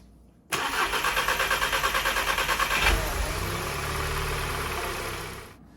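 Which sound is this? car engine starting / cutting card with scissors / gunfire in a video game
car engine starting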